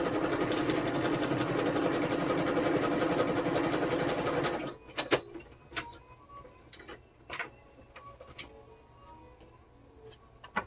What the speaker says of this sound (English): I have a sewing machine to the left of me.